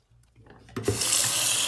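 A bathroom water tap is turned on and runs steadily and loudly after a brief faint rustle, a continuous hiss of water filling a sink.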